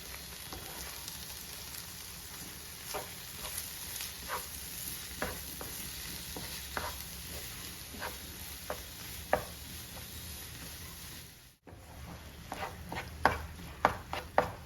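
Kerala-style egg thoran with pepper powder fries in a pan, a constant sizzle broken by repeated scraping stirs, a brief dropout near the end, and then a few sharper clacks of the spoon.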